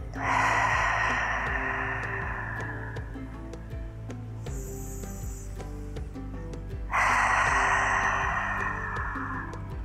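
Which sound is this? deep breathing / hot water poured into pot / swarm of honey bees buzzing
deep breathing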